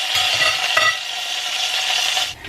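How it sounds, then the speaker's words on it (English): Meat sears in a hot pot for a pot roast, a steady close hiss of sizzling fat with brief scraping stirs, no talking. "let me go ahead and sear that,"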